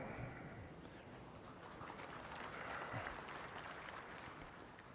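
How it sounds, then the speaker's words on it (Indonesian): Steady audience applause at an Indonesian political speech, a dense wash of many hands clapping continuously at a distance. "Jangan terlalu sering tepuk tangan."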